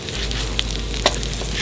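Eggs, shells and all, hit a hot pan for curry fried rice and sizzle in a steady, close hiss, with a couple of sharp crackles standing out partway through.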